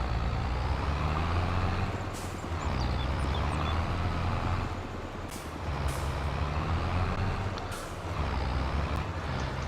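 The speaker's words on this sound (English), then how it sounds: "It's hard to believe that this thing has air brakes." Vintage tractor in Farming Simulator 22 planting potatoes, its engine rumbling low and steady while air brakes release several short, sharp hisses at irregular intervals.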